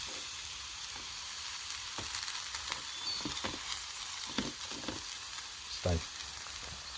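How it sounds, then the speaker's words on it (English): Mushrooms frying in a pan at a solo wild camp in dark woods, a soft steady sizzle with faint pops and crackles throughout, quiet and close, with no talking. "Our mushrooms smell great when they're in the frying pan."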